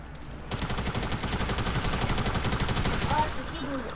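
An SMG firing in a video game, a rapid sustained burst of gunfire that starts abruptly and rattles steadily for about three seconds under a faint background voice.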